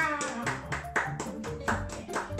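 A pair of hands claps in a steady, even rhythm, each clap sharp and close, over a sustained tonal background during a Minecraft sunset.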